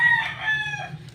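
A Rhode Island Red rooster crows close by on a rural province farm, one short, loud, strained call with no talking.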